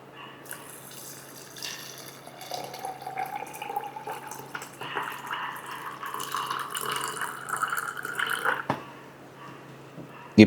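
Water is poured into a blender jar while a natural cooling drink is being made, a steady splashing stream whose pitch slowly rises as the vessel fills, ending with a sharp knock.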